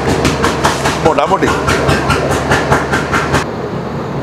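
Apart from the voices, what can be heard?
train running after departing Siliguri Junction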